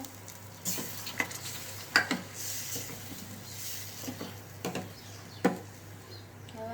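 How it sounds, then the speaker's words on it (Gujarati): Curd masala for dum aloo sizzles steadily in a pan after spoonfuls of water go in, with a constant hissing fry broken by several sharp clinks and scrapes of a spoon against the vessel. "હવે એમાં નાખીશું આપણે પાણી બે ચમચી પાણી નાખું"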